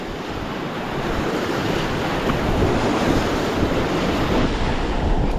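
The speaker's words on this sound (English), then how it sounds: "The sound of those waves, very relaxing." Waves wash steadily against the Lake Erie shore in November, a continuous broadband roar of surf with gusty wind noise over it, loud and near, without any voices.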